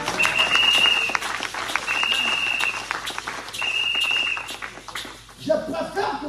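Congregation applauding and cheering during an evangelical Sunday church service, sustained clapping under a loud voice, with shrill bursts of whistling or vocal cheers recurring every second or so before the applause thins out near the end.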